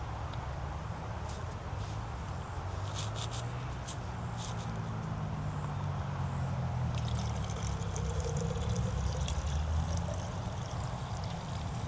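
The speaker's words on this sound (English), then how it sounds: "I believe it is time to filter some water" Water trickles and pours in a faint, steady stream while being filtered at a stealth campsite, quiet and close against soft outdoor background noise, with a few light clinks.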